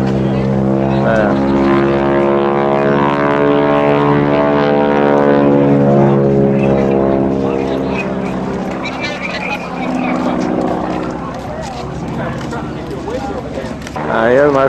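A C-54 four-engine propeller transport from the Berlin airlift drones at the 2005 Millville airshow, a steady loud rumble running throughout the clip.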